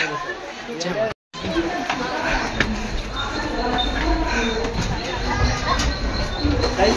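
A train bound for Konkan rumbles and clatters steadily while people talk and chatter close by. The noise cuts out for a moment.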